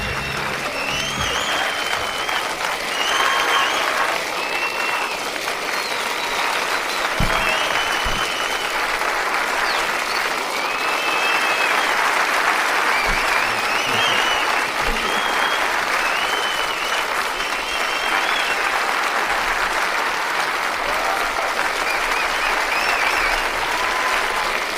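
A large audience bursts into sustained, loud applause that holds steady for the whole stretch, with a few whistles or cheers riding on top of dense clapping.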